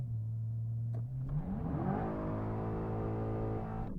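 American supercar engine revving hard during a launch, one loud sustained rise in pitch that climbs and holds near the listener, with no talk over it.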